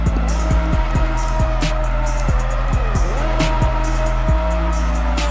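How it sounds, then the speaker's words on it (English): A race car doing a victory burnout after the World Race Series 2023 finale in Shanghai, its loud engine droning steadily with rhythmic revving pulses and a sustained tire squeal running throughout. "And now for Lucky Tito's race win victory burnout"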